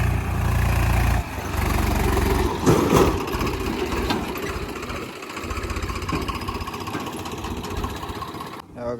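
A tractor engine fitted with a silencer runs steadily on a ghat road, its low rumbling drone continuous and close, with a shift in tone around a second in and a brief cut near the end.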